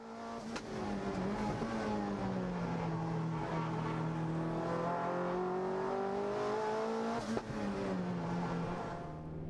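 A race car takes turn 3 at full speed at Winton Raceway, its engine a loud sustained drone that dips and rises in pitch through the corner, with a brief sharp knock near the end and no voices.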